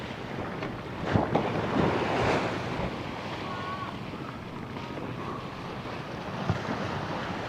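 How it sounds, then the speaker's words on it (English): Ocean surf rolls onto a beach in Thailand, a steady wash of breaking waves with wind buffeting the microphone, a few louder surges standing out, and no one talking. "Some good ocean sounds and views."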